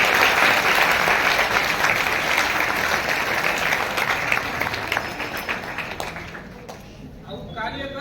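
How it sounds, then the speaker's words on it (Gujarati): Dense, loud applause from an audience welcomes a speaker at a motivational talk, holding strong for several seconds before thinning out and fading toward the end. "આપણે એમને જોરદાર તાળીઓથી વધાવીએ."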